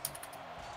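Keyboard struck hard during a Rocket League match, a few quick sharp clacks at the start followed by a steady low murmur of game background, fairly faint throughout.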